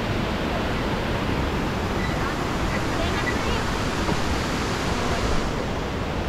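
Continuous broadband roar of a waterfall near Kandy, steady and loud throughout, with a faint wash of wind and no break in the rush of water.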